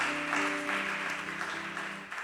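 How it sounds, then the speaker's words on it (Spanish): A church congregation applauds together, a steady wash of many hands clapping at moderate loudness, with a sustained tonal hum underneath throughout. "Denle un aplauso al Señor"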